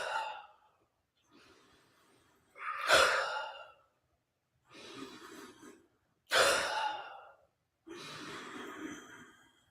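Deep diaphragmatic breathing during guided pranayama meditation: a series of slow, loud inhales and exhales in long drawn-out waves with pauses between, close and breathy, heard alone without talk.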